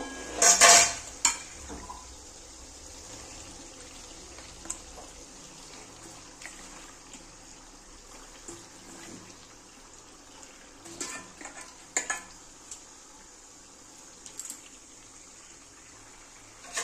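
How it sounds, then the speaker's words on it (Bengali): Chicken pieces tipped into a pan of cooked-down spice paste for chicken kosha curry, with a loud clatter and splash at the start, then a low sizzle under occasional scrapes and clinks of stirring. "দেখো মশলাটা কষানো হয়ে গেছে, এবার আমি চিকেনগুলো দিয়ে দেব।"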